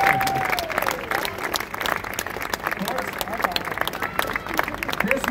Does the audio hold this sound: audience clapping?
yes